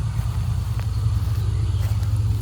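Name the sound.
road traffic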